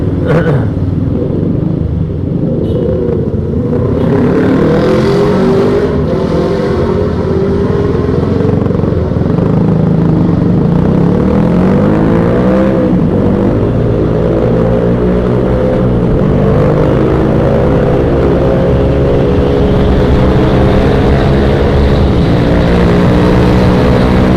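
A Yamaha Aerox scooter cruises at night, its engine droning loudly and continuously with rising and falling pitch as it accelerates and eases off, plus steady wind rush, no voices.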